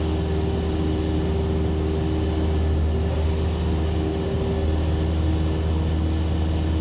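Steady cockpit drone of a small plane in flight, a loud constant engine hum with a low rumbling bed and a faint steady tone, unbroken and without talk.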